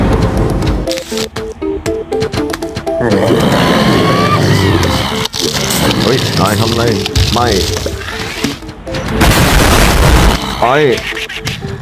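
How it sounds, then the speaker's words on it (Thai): A bomb goes off in the video game Plants vs Zombies, a loud burst of booming noise amid busy game effects and crackles, while a voice talks over the gameplay. "นายพร้อมที่จะโดน ระเบิดของฉันหรือยังล่ะระเบิดนี้มันร้ายแรงมาก"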